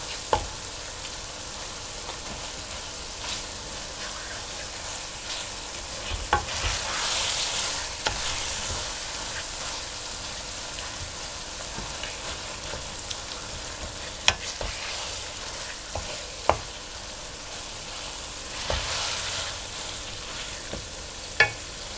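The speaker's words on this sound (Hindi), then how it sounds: "अच्छी तरह से मसाले और कीमे को मिक्स कर लें।" Minced meat with spices being stirred in a pan while frying for a dhaba-style aloo keema: a faint, steady sizzle with soft scraping strokes and occasional sharp utensil taps, no voices.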